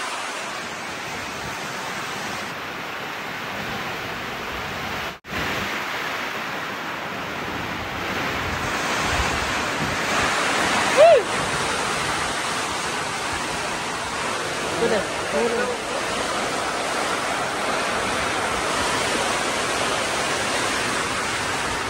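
Heavy rain and strong wind on a mountain make a loud, steady roar of rushing noise that surges a little over its length, very close to the microphone, with no talk.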